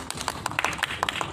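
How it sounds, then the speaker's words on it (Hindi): A crowd at a live poetry recital claps in a quick, brief burst of overlapping hand claps, fairly close and rhythmic, lasting only a moment. "बिल्कुल तालियां बजाएं"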